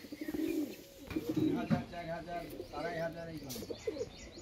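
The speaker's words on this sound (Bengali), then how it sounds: "এই যে পায়রা" Golden pigeons kept for sale coo in repeated low, throaty phrases close by, with a few higher chirps, while people talk over and between the calls.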